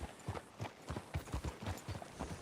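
Horse hooves clip-clopping at a steady walking rhythm in Red Dead Redemption 2, close and moderately loud, each hoof strike a soft low thud repeating about every third of a second with no talk over it.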